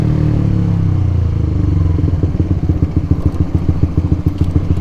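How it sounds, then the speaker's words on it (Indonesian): Honda CBR K45R motorcycle idling after a week unused, a low steady exhaust drone that breaks into rapid irregular crackles and pops from the exhaust, close and loud. "mantep bener suara knalpot gue tiba-tiba meletek"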